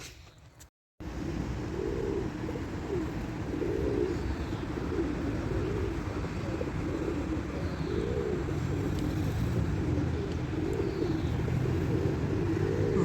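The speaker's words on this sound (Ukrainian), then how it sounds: "голуби наступають." Pigeons coo in a steady, repeating low rhythm, close by, over a constant background hum of distant traffic.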